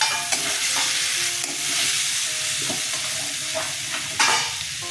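Potatoes, with a pinch of sugar, stir-fried in a pan for a fish curry with ridge gourd give a close, steady sizzle, with a few sharper scrapes and clinks of the stirring spoon.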